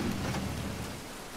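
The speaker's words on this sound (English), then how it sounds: "I can feel literally every single drop of rain." Dense rain falls in The Last of Us Part II video game, a steady close hiss with a low rumbling undertone, fading slightly over the short stretch.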